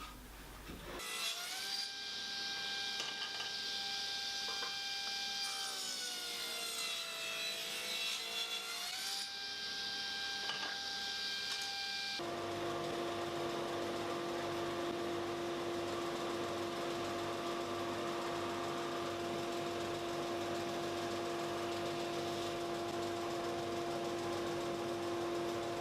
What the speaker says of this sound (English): I'll cut the strips oversized and I'll just sand them up so they're a good fit inside the groove.